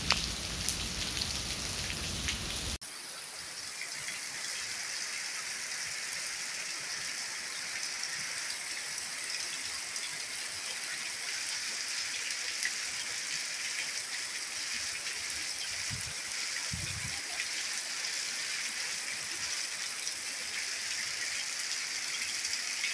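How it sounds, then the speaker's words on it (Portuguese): Heavy rain pours steadily onto surfaces in Carpina, Pernambuco, Brazil, a dense continuous hiss with no pauses, loud and close, with a brief change in tone at the start. "Forte chuva nesse momento na cidade de Carpina,"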